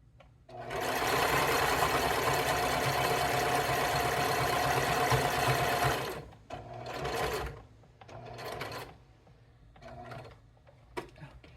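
Sewing machine stitching fabric at a steady fast whir for about five seconds, then stopping, followed by short bursts of stitching and handling noises, close and fairly loud.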